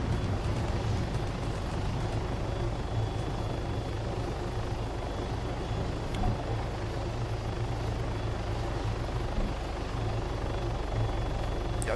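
A helicopter in the video game Arma 3 gives a continuous, loud, dense rotor and engine drone that holds steady throughout with no clear variation, with no talk.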